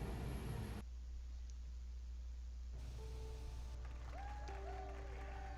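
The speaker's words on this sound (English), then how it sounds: "They seem to be cheering, that's a good sign." Faint crowd cheering in Star Wars: Knights of the Old Republic, a soft, wash-like roar under game sound effects and a steady low hum, with a few tonal blips and chimes toward the end.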